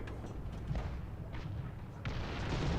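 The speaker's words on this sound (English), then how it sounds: "Artillery's going off right in front of me." Distant artillery rounds going off in the tank game War Thunder, low muffled thumps under a steady engine rumble, with a heavier hit near the end.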